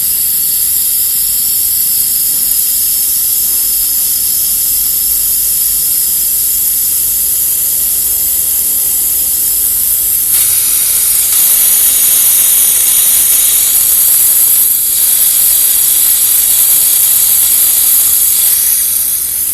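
An antifreeze change device builds pressure on a car's cooling system, a loud continuous hiss that holds steady and then grows brighter and stronger about halfway through, with no voices.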